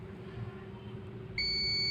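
Continuous electronic buzzer tone from a continuity tester while checking the earth wiring of an electric iron, starting abruptly partway through and holding steady and loud over a low background hum.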